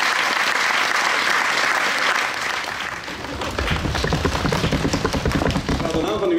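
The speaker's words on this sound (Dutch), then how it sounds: "Namens iedereen hier, even een applaus voor Lieke." An audience at a poetry competition applauds in a burst of clapping that swells and carries on steadily, thick and close, with no voices over it.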